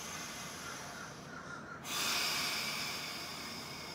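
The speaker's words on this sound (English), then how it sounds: "Last few breaths, you got this." Deep breathing during a pelvic floor exercise, a soft airy inhalation that swells into a fuller, louder exhalation heard close and alone.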